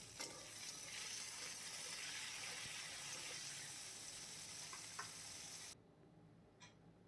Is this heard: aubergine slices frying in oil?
yes